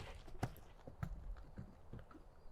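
Horse hooves clip-clopping on an arena surface during jumping practice, a steady rhythm of distinct thuds at close range, with no voices heard.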